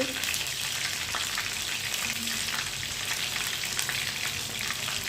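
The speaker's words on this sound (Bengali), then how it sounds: "নটকে মাছ চাউলের গুঁড়ো দিয়ে ভাজি করতেছি।" Steady, close sizzling of rice-flour-coated fish frying in oil, a dense continuous crackle with faint spits throughout and no talking.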